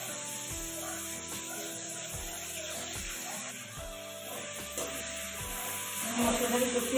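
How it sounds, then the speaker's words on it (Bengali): Ground spice paste for rui fish curry fries in a pan, giving a soft continuous hiss with rhythmic scraping and rubbing strokes of a spatula, close and moderately loud, the sizzle swelling toward the end. "এগুলো এখন মশলাটাকে আমি ভালো করে কষিয়ে নেব।"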